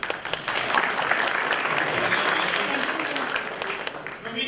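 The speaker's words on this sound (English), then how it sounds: "We go a round of applause for the girl student who asked everything" Audience applause fills a hall at a large career guidance event, a steady dense clapping from many hands that holds for several seconds without a break.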